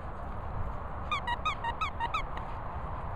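Collie dogs at play let out a run of about eight quick, high-pitched squeaks in a steady rhythm, close by over a low background rumble.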